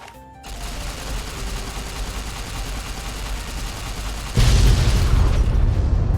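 An explosion goes off in Fallout: New Vegas: a sudden loud, deep boom erupts after several seconds of steady game ambience and rumbles on through the end.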